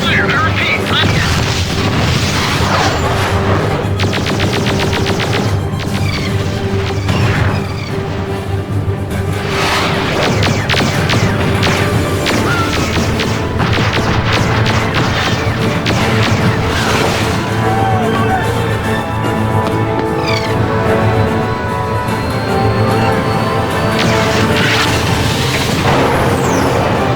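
Repeated booms, crashes and whooshing blasts of explosions and enemy fire in the space combat game Starlancer, loud and continuous throughout, with voices speaking over the battle.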